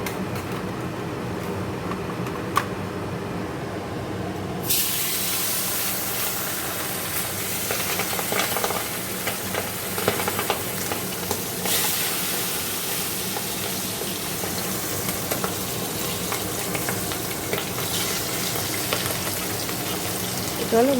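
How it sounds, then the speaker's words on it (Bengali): Fish frying in a pan gives a steady, close sizzle that starts lower and swells louder after a few seconds, then carries on as a continuous hiss with small crackles. Nobody speaks. "চলো ভাজা হোক মাছ। দেখো মাছ ভাজা হয়ে গেছে"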